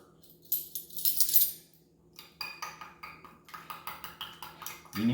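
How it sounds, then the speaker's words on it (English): A spoon stirring pork injection liquid in a cup, producing a string of light, rhythmic clinks and taps against the sides, close and fairly soft, with quiet stretches between strokes. "I'm going to take one of these and do a little stir."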